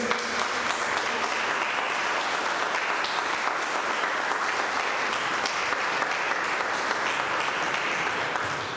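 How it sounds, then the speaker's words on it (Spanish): Crowd applause at a quinceañera celebration following a church service, dense and continuous clapping filling the whole stretch at a steady loud level. "Vamos a darle un fuerte aplauso."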